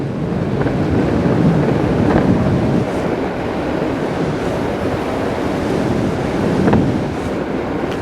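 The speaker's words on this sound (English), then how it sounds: "it's a bit windy" Loud, steady wind buffeting the microphone while riding an electric skateboard at speed, a constant rushing roar with occasional gusts and faint rattles, no voices.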